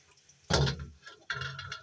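Water splashes and pours while washing up in a Filipino home, in two short bursts about a second apart, close and fairly loud, with no voices.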